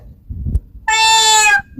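A child imitates a cat's meow with one drawn-out, tonal cry lasting under a second, loud and close, preceded by faint murmuring.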